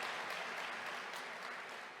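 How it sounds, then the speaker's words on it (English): Sustained audience applause at a city State of the City address, a dense, even wash of many hands clapping at moderate distance with no pauses. "Yes, can we clap it up?"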